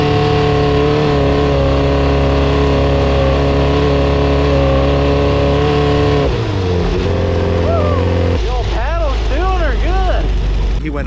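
An off-road vehicle engine revs hard during a hill climb on the Glamis dunes, a loud droning roar that shifts pitch sharply, then surges and wavers in repeated rising and falling revs, close by.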